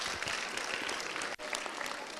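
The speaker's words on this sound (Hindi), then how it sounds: "जोर से तालियां इनके लिए एक बार।" A studio audience claps after a contestant gives a correct answer on a Hindi religious quiz show, a steady wash of applause with a brief dip partway through before it picks back up.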